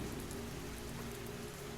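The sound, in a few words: rain falling at night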